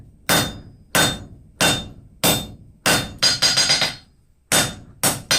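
A hammer strikes a heated railroad spike on the anvil, upsetting it for tongs: loud, ringing blows, several single strikes spaced about a second apart, then a quick burst of rapid hits and two more after a pause.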